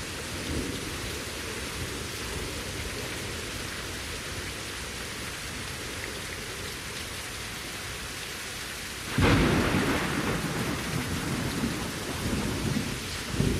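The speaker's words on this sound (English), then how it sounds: "I thought I was gonna say it sounds like the rain's going away," Steady rain pours in the survival game Better Late Than Dead, a constant wash of drops, and a loud thunderclap breaks in near the end before rolling on under the downpour.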